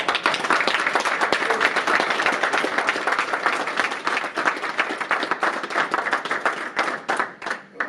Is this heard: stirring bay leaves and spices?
no